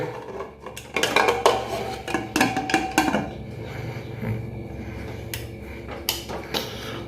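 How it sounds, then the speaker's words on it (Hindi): A metal lid set onto a steel pot of red masoor dal on a gas stove gives several clanking, scraping kitchen knocks close by, clustered in the first few seconds and then fading to softer clinks. "अब इसको ढक्कन लगाएंगे।"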